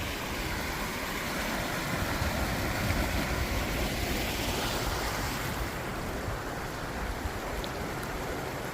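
Steady rushing of cold flowing mountain water on the Adi Kailash route, a continuous broad wash like a river or stream close by, with no voices over it.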